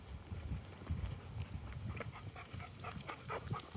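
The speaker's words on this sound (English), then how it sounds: "Where that dog is huffing and puffing." A hot dog pants heavily outdoors on a neighbourhood walk, quick steady huffing breaths repeating close by with faint footstep-like taps, no talk.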